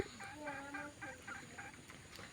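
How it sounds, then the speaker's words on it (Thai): A mother hen with her young chicks in a free-range flock of crossbred jungle fowl clucks repeatedly in short, close, evenly spaced bursts over a steady outdoor background. "ไก่แม่ลูกอ่อน"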